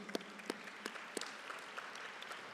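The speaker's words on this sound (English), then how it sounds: "So one more round of applause," A conference opening-ceremony audience gives a round of applause, a thin scattering of claps with a few sharp individual hits standing out, fairly quiet and fading.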